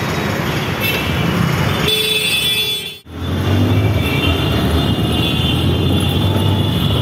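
Dense road traffic rumbles loudly throughout, with car horns tooting and engines droning nearby; a brief dropout interrupts the noise midway.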